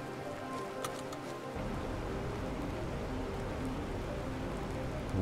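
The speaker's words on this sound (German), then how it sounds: "Ich liebe Regen." Rain falls in the video game The Planet Crafter, a soft, steady hiss that thickens after a quieter first moment and continues evenly throughout.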